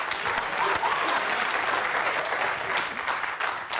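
A studio audience claps steadily through a Georgian comedy contest show, dense and fairly loud. The applause holds for the whole stretch with a faint murmur beneath it.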